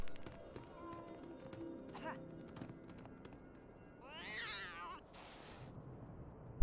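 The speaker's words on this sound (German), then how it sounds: "Verpiss dich, du blöde Katze." A cartoonish cat meows in the Lego Harry Potter video game on Switch, a short rising and falling cry midway through, over a steady bed of game music and ambience.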